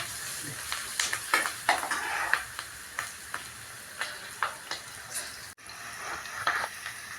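Chili and curry leaves sizzle in hot oil for chevdo while a spoon stirs, with repeated soft scraping strokes over a steady frying hiss.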